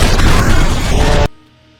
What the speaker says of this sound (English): There is an explosion.